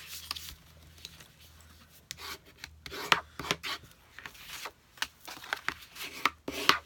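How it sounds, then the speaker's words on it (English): Cardstock edges are burnished by hand in short, uneven rubbing and scraping strokes that come close and quiet, with soft taps between them and no talk. "just burnish the edges like that"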